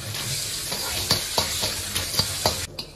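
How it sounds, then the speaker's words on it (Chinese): Pork belly stir-frying in hot oil in a wok, a steady close sizzle broken by sharp scraping clatters as the spatula tosses the meat, with no talking. "把这个五花肉下锅"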